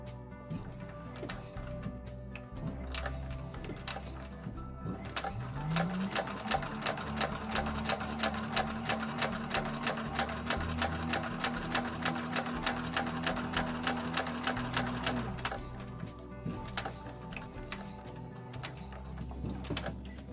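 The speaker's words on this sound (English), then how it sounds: "we're going to go ahead and stitch 1/8 of an inch" A sewing machine topstitches an eighth of an inch along the edge of a handbag exterior, its needle ticking in a fast, even rhythm for most of the stretch, with quieter mechanical clicks before and after.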